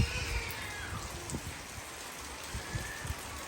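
Steady rain hisses outdoors in the mountains of Chechnya, with scattered drops tapping nearby surfaces, a constant wash of noise with a few sharper patters.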